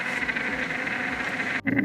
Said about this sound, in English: the sound you hear here is gas escaping from underneath the iron ball